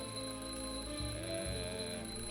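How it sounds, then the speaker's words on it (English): A smoke detector being tested in the adventure game The Journey Down gives a continuous shrill electronic alarm, steady and loud throughout, with a low background hum underneath. "testing the smoke detector"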